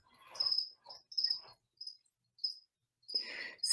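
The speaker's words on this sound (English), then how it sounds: "you're going to hear crickets through this whole thing" Crickets chirp in short, bright bursts at an outdoor evening class making a watermelon bowl, with pauses between bursts and one steady trill near the end, fairly faint and with no talk over it.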